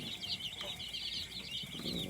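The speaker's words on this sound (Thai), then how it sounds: "ก็มีลูกไก่ ประมาณ 1-2 สัปดาห์นะครับ ในแก๊งเนี้ยครับ" A flock of chicks about one to two weeks old in a farm brooding pen peep continuously in a high, overlapping chorus of rapid chirps, steady and fairly close throughout.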